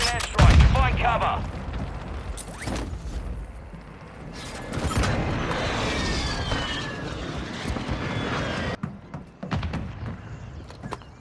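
Airstrike explosions in Warzone Mobile: a heavy close blast opens, followed by rolling booms, rumbling and whistling streaks under game voice callouts, fading into scattered distant impacts near the end.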